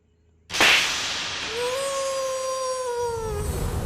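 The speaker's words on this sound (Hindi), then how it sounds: "आपने मुझे दोबारा क्यों थप्पड़ मारा?" A sharp slap strikes once in a Hindi comedy scene when a father-in-law is asked for his blessing, followed by a whooshing whip-like sting with a sustained tonal sweep trailing off.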